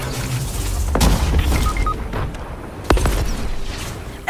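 Explosions in Fortnite squads play with high explosives, a run of booming blasts and pops, two sharp loud hits around one and three seconds over continuous rumbling battle noise, close and dense.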